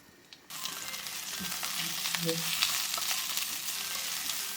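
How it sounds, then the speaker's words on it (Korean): Onions hit a hot pan for japchae, and a loud, continuous frying sizzle starts abruptly and holds steady, with faint stirring underneath. "느낌 가는 대로 양파 볶을게요"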